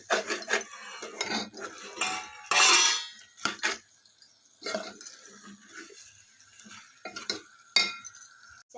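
A spoon scrapes and clinks in a pot of chicken curry with homemade garam masala, in short irregular bursts of stirring with quiet gaps between, close and moderately loud.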